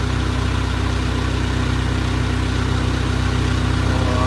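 A loud boat engine idles in wintry Alaskan waters with a steady, throbbing low drone that holds constant and close throughout, with no voices.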